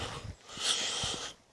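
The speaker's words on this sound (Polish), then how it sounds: "patrzę, tam dwa pieska, piesek idzie do mnie" A dog out on a walk through beech woods sniffs and huffs close by, giving a short whining, snorting sound with soft breathy bursts and no talk.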